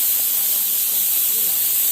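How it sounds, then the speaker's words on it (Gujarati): A kitchen pressure cooker vents steam while cooking ghee in a home kitchen, a loud continuous hiss that stays steady throughout with faint background sounds beneath it. "અંદર હજુ કુકરની સીટીઓ"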